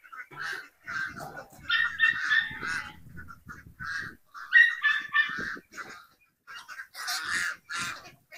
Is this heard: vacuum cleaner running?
no